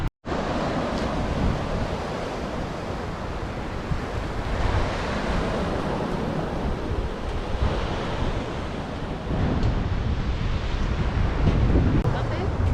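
Surf and strong wind on Driftwood Beach, Jekyll Island, coastal Georgia, a steady loud roar of breaking waves with heavy wind buffeting the microphone throughout, no voices.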